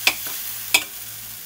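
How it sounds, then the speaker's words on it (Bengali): Vegetables fry in a pan before Maggi noodles go in, with a soft sizzle and two sharp scrapes of a spoon against the pan, close and brief. "এবার আমি একটু নাড়াচাড়া করে ম্যাগিগুলো ঢেলে দেবো"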